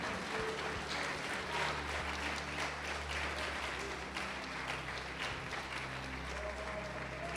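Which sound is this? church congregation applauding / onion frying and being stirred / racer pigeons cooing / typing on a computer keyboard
church congregation applauding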